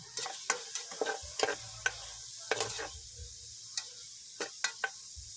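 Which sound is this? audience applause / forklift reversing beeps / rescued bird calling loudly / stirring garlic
stirring garlic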